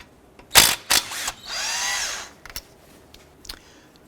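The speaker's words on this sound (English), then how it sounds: "Using a 13mm socket, we're going to go ahead and remove this bolt here and this bolt here." Power tool spinning off the 13mm brake caliper bolts on a 2004-2009 Dodge Durango during a front rotor and pad job: a few short close bursts, then a longer whirring run, followed by faint clicks.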